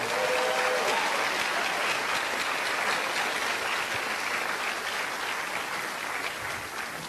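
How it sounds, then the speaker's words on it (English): A large audience at a Pecha Kucha presentation night claps steadily after the first round of talks, a dense, loud and continuous wash of applause that holds for several seconds and eases slightly near the end. "Let's get another huge round of applause for everyone."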